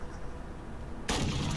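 Gunfire in the video game Call of Duty Modern Warfare bursts in suddenly after a quieter stretch, loud and dense, a sustained rattle of shots filling the last half second.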